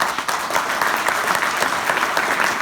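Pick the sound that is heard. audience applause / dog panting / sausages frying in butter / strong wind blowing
audience applause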